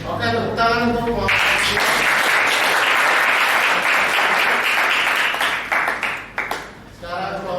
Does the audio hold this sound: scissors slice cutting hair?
no